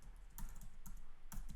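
Quick keystrokes on a computer keyboard, with short bursts of typing and a tab key hit a few times, in a close, steady rhythm with no voices.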